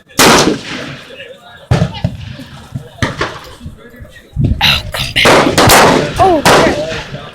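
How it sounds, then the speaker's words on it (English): Loud gunshots ring out at an indoor shooting range with sniper rifles and machine guns, sharp reports arriving in irregular bursts, some in quick succession, with a voice talking in between. "Huh, look at all these guns, huh, Junior? Look at all these guns. Look, sniper, machine gun"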